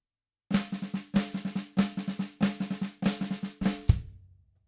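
Drum kit plays six quick bursts of the Blushda rudiment, each a rapid run of hits on snare and toms, ending with a crash that rings out.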